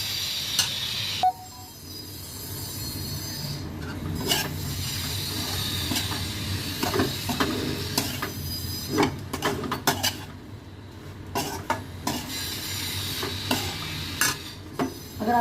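Chili and turmeric are stirred in hot oil in a pan, with a steady scraping of the spoon over a soft sizzle and clinks against the pan, close and moderately quiet.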